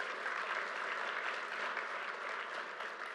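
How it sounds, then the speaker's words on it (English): An audience applauds the governor at a ceremony marking completed new terminal facilities at LaGuardia Airport, a steady, even wash of clapping from a sizable crowd, heard at moderate distance with no voices over it. "Let's give her a round of applause."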